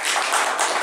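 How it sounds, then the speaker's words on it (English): Audience at an open mic night at Intimo Lounge clapping in a dense, steady burst of applause that fills the short moment with no gaps. "give them another round of applause"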